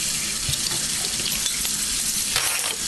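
Running water from a kitchen tap as hands are rinsed at the counter, a steady broadband hiss and splash that stays loud and continuous throughout without talk.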